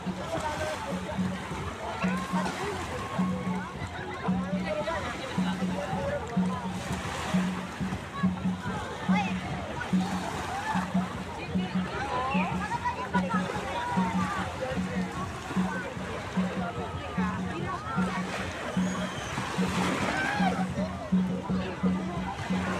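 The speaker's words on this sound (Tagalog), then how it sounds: "Maingay yung dagat ay." Sea waves wash steadily at Boracay beach at sunset, a continuous broad surf roar that fills the clip, with people talking close by over it.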